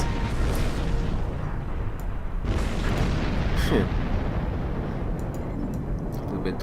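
A loud rumbling explosion booms in the Star Trek Online space game over a dense, constant roar of combat noise, with a voice briefly heard.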